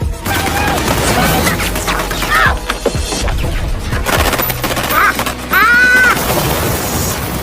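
Heavy gunfire from a war film battle between US troops and the Taliban, with mortars in play. Dense, loud bursts of shots and crashing impacts pile up continuously with no break.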